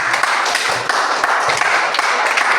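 A classroom full of students applauds a student group, steady dense clapping throughout with no pauses, fairly loud and close.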